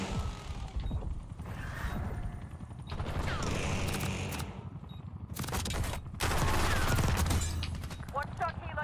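Gunfire in a shooter game, with sharp bursts of shots and clattering weapon mechanics arriving in clusters, mixed with radio-style voice callouts and background battle noise.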